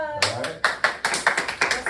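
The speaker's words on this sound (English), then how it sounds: "Round of applause." Sixth-grade classroom applause, a short burst of many hands clapping at close range, starting abruptly and continuing steadily.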